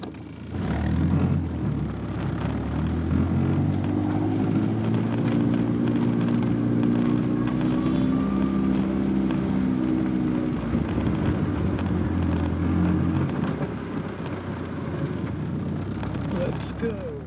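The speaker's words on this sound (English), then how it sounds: "let's go into reverse and go out the way we came in" A low Caterham/Westfield Lotus 7-style sports car reverses out of an obstruction in Guasca, Colombia, then drives off, its engine note rising in harmonic sweeps and settling into a close, steady drone before easing off.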